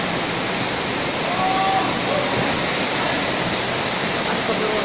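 Strong storm wind driving heavy rain in Surabaya makes a dense, loud, unbroken roar that fills the whole stretch without letup.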